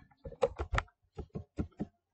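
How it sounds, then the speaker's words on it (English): Close keystrokes on a computer keyboard as a name is typed, two quick clusters of crisp clicks separated by a short pause, clear and alone. "and then I type in the person's name"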